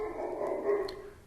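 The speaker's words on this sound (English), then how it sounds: "my apologies for the dog barking in the background" A dog barks in the background of an indoor room, a short muffled bark heard faintly at a distance with no talking over it.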